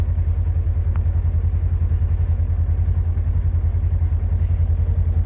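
A car's engine cooling fan runs steadily while the engine idles hot, giving a continuous low rumbling drone with an even pulsing texture, no voices.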